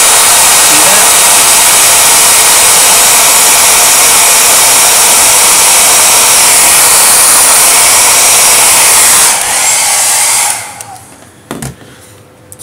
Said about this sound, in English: to the magic of hair dryers, or a hair dryer